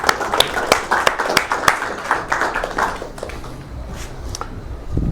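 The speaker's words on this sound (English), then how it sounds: "big round of applause for James" Audience applause after a tech demo at a meetup event in Las Vegas: a lively burst of hand claps from a room of people, close and loud at first, then thinning and fading toward the end.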